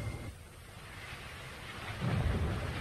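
Steady rain with a low rumble of thunder swelling near the end, a continuous wash of storm noise with no voices.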